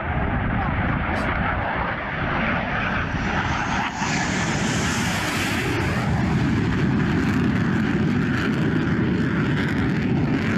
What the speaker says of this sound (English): Here is a clip of a plane chasing an orb.